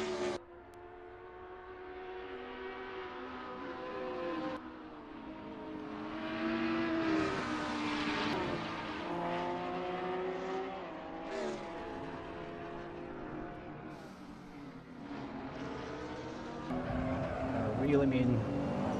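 A GT3 race car engine at Brands Hatch in a racing simulator, a loud rising and falling howl through gear changes with up- and downshifts, steady and close, with someone talking over it.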